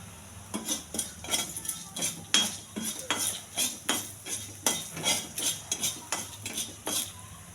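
Dried red chilies, chana dal, mustard seeds and cumin are stirred in a hot pan with a metal spoon, making rhythmic scraping clinks repeated many times over a faint sizzle.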